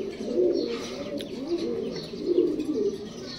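Several black gorra racer pigeons, a breeding pair, coo steadily and close by in a soft, rolling low murmur, with a few faint chirps mixed in and no talking.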